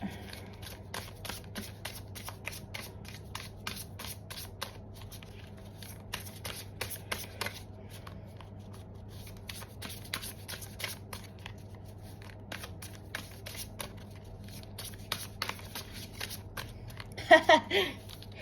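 Tarot cards being shuffled by hand in repeated quick riffling bursts of crisp papery flicks, close and moderately quiet, with a louder flurry near the end and no talking.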